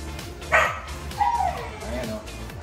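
Tiny exotic bully puppy gives a couple of short yips and a whimpery bark at a kennel, close by, with people talking over it.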